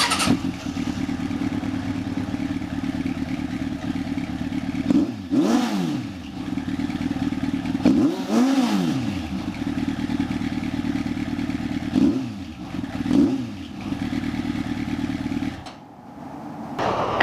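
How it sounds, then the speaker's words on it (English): A 2006 Suzuki GSX750F motorcycle with a Delkevic stainless slip-on exhaust and no silencer idles loudly and steadily, close up. It is broken by several sharp revs that rise and fall, with no talking. "And this is without the silencer."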